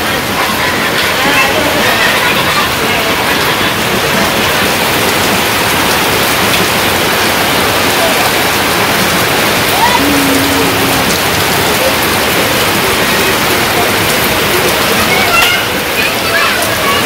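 Steady rain falls in a village, a dense, continuous patter and splash on surfaces that stays loud and even throughout, with a person talking faintly beneath it.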